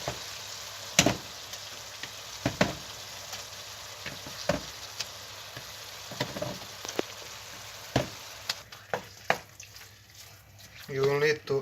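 Meat and onions fry in a pan with a soft, steady sizzle, broken by scattered clicks and scrapes as the mixture is stirred and broken up, and a voice speaks at intervals.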